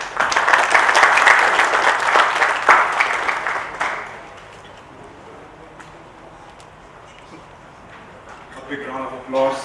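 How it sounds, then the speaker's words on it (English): Audience at an architecture and design summit in Kochi applauding a panel session, a dense burst of clapping for about four seconds that fades into quiet room tone before a voice begins speaking. "A big round of applause."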